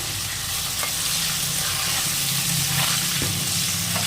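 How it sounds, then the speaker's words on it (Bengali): Potatoes fry in hot oil with a loud, continuous sizzle, broken by occasional soft stirring knocks close by. "এবার আমি আলুগুলো ফ্রাই করে দেবো"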